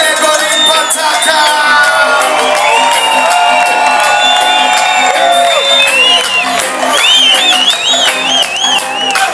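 Live crowd at a tribute reggae concert cheering, whooping and shouting loudly and continuously, with bright whistles and yells over the noise of a big audience, all close and full throughout.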